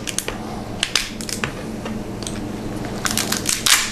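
A cooked lobster's shell is cracked open by hand, giving a run of dry, brittle crunches and snaps, fairly close and loud, with a denser burst of cracking near the end.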